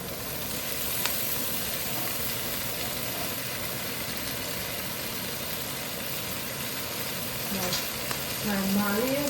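Tomato paste sizzling and frying in a pot for king fish stew, a steady loud crackling hiss throughout, with a voice speaking briefly near the end.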